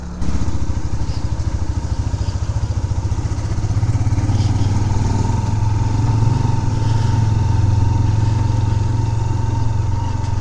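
A motorcycle engine pulses close by as the rider pulls away from a roadside in Kashmir in winter, a loud, steady mid-pitched thrum that rises slightly in revs as it gets going.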